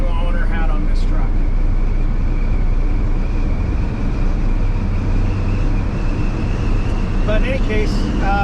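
Inside the cab of a moving 1968 Ford F100 shortbed pickup, a loud, steady low engine and road rumble runs throughout, with a constant wind hiss and occasional rattles underneath.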